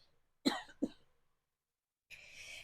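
Two sharp coughs in quick succession, close and fairly loud, followed by a pause and then a breathy rustle.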